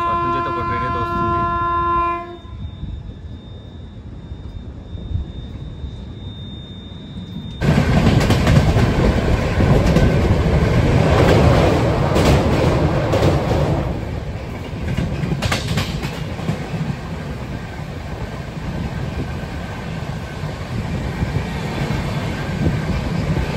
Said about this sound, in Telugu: అటు నుంచి అయితే ఒక ట్రైన్ అయితే వస్తుంది